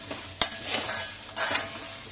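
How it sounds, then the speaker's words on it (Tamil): Ingredients for chicken kadai rice being stirred and sautéed in an iron kadai, with a soft sizzle under repeated scraping strokes of a spatula against the pan, close and moderately loud. "நல்லா வதங்கிடுச்சு பாருங்கள் இன்னும் கூட கொஞ்சம் வதக்கிக்கலாம்"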